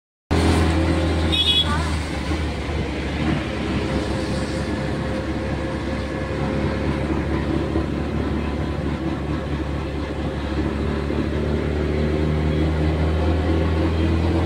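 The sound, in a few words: tempo vehicle driving on the road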